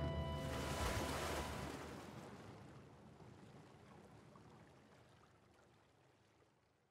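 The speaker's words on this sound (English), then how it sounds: "Are we making a water landing? But that's okay because this is a seaplane." A seaplane lands on water in the video game Animal Crossing New Horizons, a loud rushing splash of water and wind that slowly fades into a soft, steady wash.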